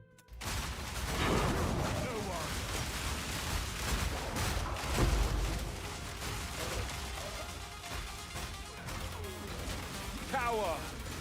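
Volatile grenade explosions from a totem grenade build in a league-start video game, bursting repeatedly in dense, overlapping blasts over steady game noise, with a speaker's voice running underneath.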